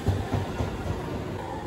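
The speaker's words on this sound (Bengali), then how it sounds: "আর এই দিকে চলে এসেছে আমাদের ট্রেন।" A train pulls into a crowded station in Kumagaya, Japan, during the Obon festival, giving a brief, fairly faint low rumble with soft rhythmic rolling.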